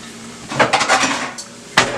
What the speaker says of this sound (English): I add a top to it.